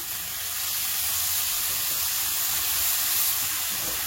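Water added to a hot pan to deglaze goat colombo, a loud, close, continuous hissing sizzle of steam that holds steady throughout.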